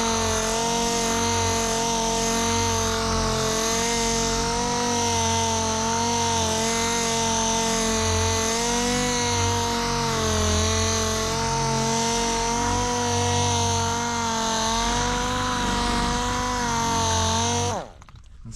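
Power sander polishing a surface with 3000 grit sandpaper, a steady loud motor whine held for about seventeen seconds, then cutting off.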